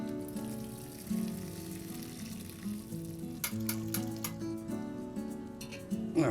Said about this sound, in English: Now is the time to strain it out into a separate pot